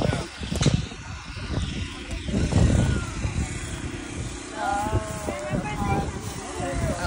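A tractor's rumbling engine runs steadily throughout, with people talking over it close by at a pumpkin patch.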